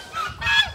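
Loud, harsh goose-like honking calls from birds at a bird enclosure in Pelling come in two close bursts, nearby and raucous.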